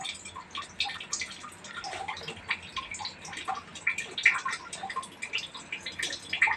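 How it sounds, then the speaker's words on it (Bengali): Water drips from a tap indoors, a faint, irregular patter of small drips and splashes against a quiet background. "কোথায় আওয়াজ হচ্ছে বুঝতে পারছো না? ওই তো জল পড়ছে"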